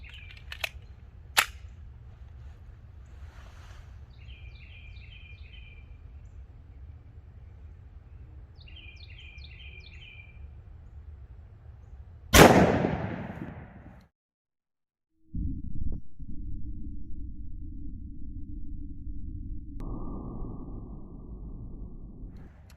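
A Colt Delta Elite 10mm pistol with a longer barrel fires Liberty Overwatch 70-grain ammunition. After some faint background clicks, one loud sharp report rings out with a short decaying tail, followed by a low steady hum.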